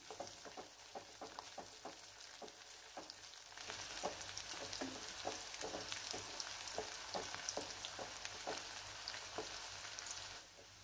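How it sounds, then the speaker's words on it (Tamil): Garlic sizzles and fries steadily in oil over a medium flame, with close, crackling pops and scraping stirs that grow denser and louder midway, with no talking. "ஸ்டவ்வை மீடியம் ஃப்ளேம்லேயே வச்சுட்டு நம்ம இந்த ஆயிலை வதக்கி விட்டுக்கலாம்"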